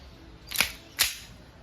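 Two sharp snapping shots about a third of a second apart from a WE 2011 Hi-Capa 5.1 Type R gas blowback airsoft pistol, close and crisp in a quiet room.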